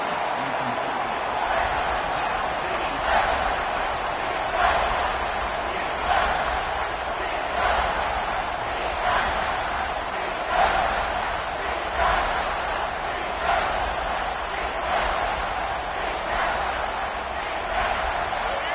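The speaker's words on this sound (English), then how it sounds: "And the crowd coming to life here, trying to help this defense down in the red zone." A large football stadium crowd at a college game between the Canes and Sooners roars steadily and swells in waves, a broad wash of cheering with a commentator talking over it.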